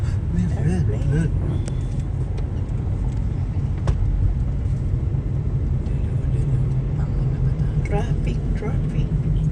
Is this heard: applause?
no